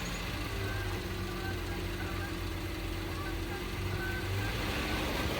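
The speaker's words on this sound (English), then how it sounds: "Engine sounds really quiet on this one" A car engine idling at low volume, a steady soft hum with a faint low rumble that continues evenly without any revving.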